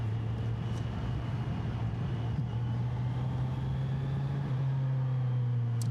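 A steady engine drone with a low, constant hum and road noise from a 2026 Kawasaki Z900RS motorcycle coasting off throttle on the overrun, continuous and fairly loud throughout.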